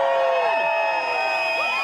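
A crowd of about 2,000 protesters cheering at a rally, with loud, sustained overlapping whoops and shouts close by for a couple of seconds.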